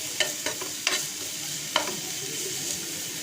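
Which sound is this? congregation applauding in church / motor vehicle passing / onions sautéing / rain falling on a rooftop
onions sautéing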